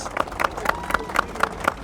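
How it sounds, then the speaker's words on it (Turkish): Steady, evenly spaced claps ring out at a motorcycle shop opening event in İzmir, about seven sharp hits in under two seconds, close and fairly loud over a faint background murmur. "Kocaman bir alkış."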